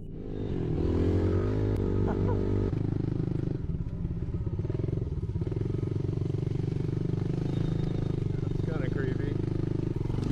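A motorcycle engine runs steadily through a forest ride, with clattering and scraping underneath and voices talking over it for much of the time.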